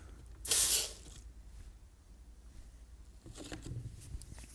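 A single short burst of wheel cleaner spray hisses out of a spray bottle near the start, followed by quieter rustling and faint handling noises.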